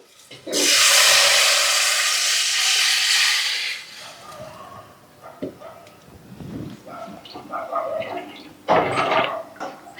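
Tamarind rasam mixed with salt, chilli and turmeric poured into a hot pan gives a loud, sustained steaming sizzle lasting a few seconds, then dies down to softer bubbling and clatter.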